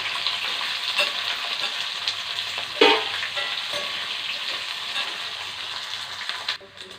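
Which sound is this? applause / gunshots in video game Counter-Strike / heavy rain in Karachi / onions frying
onions frying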